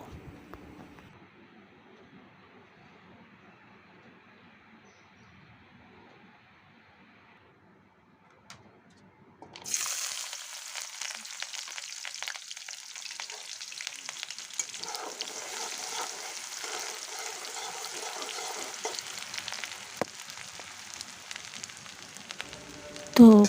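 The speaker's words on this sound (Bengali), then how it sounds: "তেলটা ভালো করে গরম করে এখানে আমি কিছুটা পেঁয়াজ কুচি দিয়ে দিব" Chopped onion hits hot mustard oil in a wok for a loitta shutki and bean seed curry. After a quiet lead-in, a loud, crackling sizzle bursts in and keeps hissing steadily to the end.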